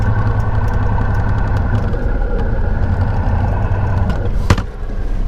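A flatbed truck engine with a failed bearing runs steadily and loudly up close, a constant rumbling drone with a brief sharp knock near the end.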